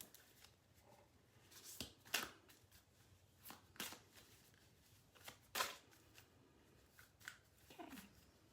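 Tarot cards are shuffled by hand in short, crisp riffling bursts separated by pauses, close and fairly quiet, with faint handling noises in between.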